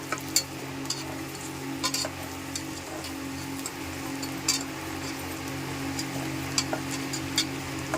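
Sliced onions, garlic and dals fry gently in oil, with a soft, even sizzle and occasional light clinks and scrapes from a spoon stirring the pan. Close but fairly quiet, with no talking.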